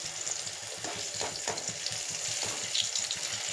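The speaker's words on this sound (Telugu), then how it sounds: "నేను ఊరికే ఒక్క 2 మినిట్స్ ఇలా కొంచెం ఫ్రై చేసిన తర్వాత మళ్ళీ దీన్ని టర్న్ చేసేసుకోవాలి" Vegetable pieces fry in a pan for a vegetable curry, giving a steady, even sizzle and crackle throughout, fairly close and unbroken by speech.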